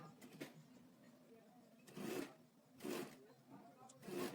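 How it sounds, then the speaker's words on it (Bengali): A domestic sewing machine stitches a shirt seam from the middle of the fabric, running in three short bursts of mechanical whirring separated by pauses, fairly close but moderately quiet. "ঠিক মিডল থেকে সেলাইটা স্টার্ট করতে হবে।"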